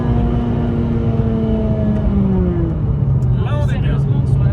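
A Renault Clio 3 RS engine drones loudly at high revs, holding a steady tone, then drops in pitch with a falling whine as it comes off the limiter. The engine is close, with faint voices underneath.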